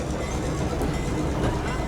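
A passenger train bound for a return trip to Reading rumbles steadily nearby, a dense, continuous low roar of wheels and rolling stock with no clear breaks.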